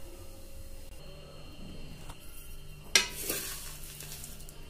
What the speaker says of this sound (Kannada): ನೋಡಿ ಈಗ ನಾನು ಪ್ಲೇಟ್ಗೆ ಸರ್ವ್ ಮಾಡ್ತಾ ಇದ್ದೀನಿ ಅವಲಕ್ಕಿನ